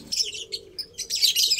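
A young checkered pigeon gives repeated high, thin chirping cheeps in short bursts, fairly close and alone with no talking.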